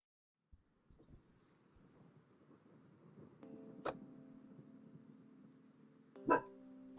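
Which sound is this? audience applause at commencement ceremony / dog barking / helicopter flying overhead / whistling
dog barking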